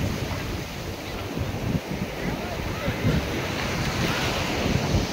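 Ferocious Indian Ocean breakers crash at Puri Beach in a dense, continuous roar. Heavy wind buffets the microphone throughout the surf.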